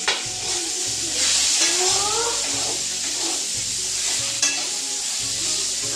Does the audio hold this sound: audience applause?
no